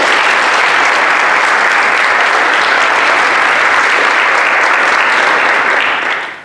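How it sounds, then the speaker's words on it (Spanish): A crowd at a science talk gives a loud, continuous round of applause to welcome the next speaker, dense clapping that holds steady before tapering off at the very end. "pido un aplauso"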